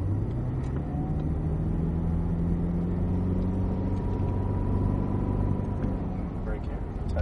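A Cadillac CTS-V Coupe accelerates out of a corner at Circuit of the Americas, a steady low engine rumble held at constant loudness under a voice.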